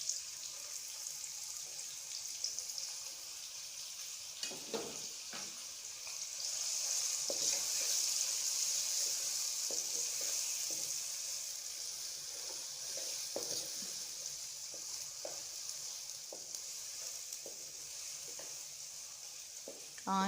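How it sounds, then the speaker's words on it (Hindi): Onions fry in oil for a mince-ball pulao with a close, steady sizzle that swells louder midway, punctuated by occasional light clicks and scrapes of stirring. "इसी ऑयल में जो है अब हम प्याज डाल देंगे।"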